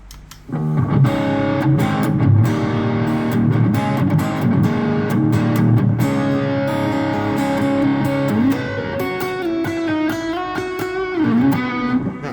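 Heavily distorted electric guitar playing sustained chords and then a bending single-note line, loud and continuous with no voices.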